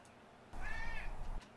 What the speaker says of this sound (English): Somebody asked for cat meows, so I gotta put that in real quick.